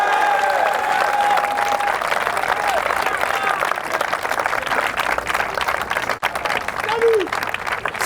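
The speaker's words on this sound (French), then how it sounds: "On acclame le Seigneur Jésus-Christ." Church congregation applauding together during a worship service, a steady dense wash of clapping hands that holds for several seconds, with voices mixed in underneath.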